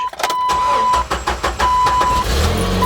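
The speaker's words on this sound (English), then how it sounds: "It's a little hard starting, which is kind of funny. So it starts right up though" A 1997 Jeep Wrangler TJ engine that starts a little hard cranks briefly and then catches, close and loud, settling into a steady rumbling idle.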